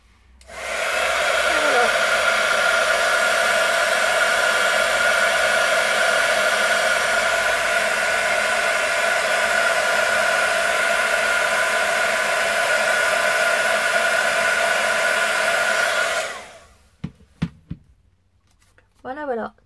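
Heat embossing tool blowing hot air over an embossed word, a loud, steady whooshing hiss lasting about sixteen seconds before cutting off, followed by a few faint handling sounds.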